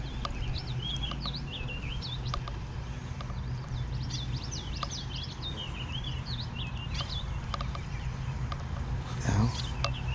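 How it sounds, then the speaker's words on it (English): Red-winged blackbirds call repeatedly beside a clear, shallow river, their short trilling whistles coming from nearby over a soft steady background of water and outdoor noise. "Just gotta watch out for these blackbirds,"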